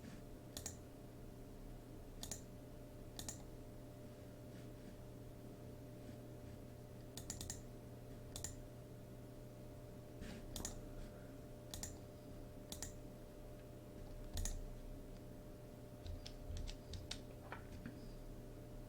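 Keys on a computer keyboard are pressed in scattered single taps and short bursts, faint and close over a steady low hum, with no talking.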